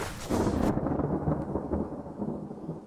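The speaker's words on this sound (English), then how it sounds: "from the skies, thunder poured like rain" Rumbling thunder with a brief sharp crack at the start, then a low rolling roar that slowly fades, set as a sound effect in a dramatized Greek myth narration of the Titanomachy.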